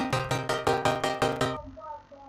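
Saw wave synth chords played on two low notes: seven evenly spaced, bright, buzzy stabs in a steady pulse, then the sound cuts off, leaving a faint tail.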